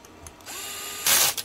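A power screwdriver gun drives screws into an RC car chassis, giving a short whirring burst with a rising pitch, then a louder buzzing spurt near the end, close up and alone.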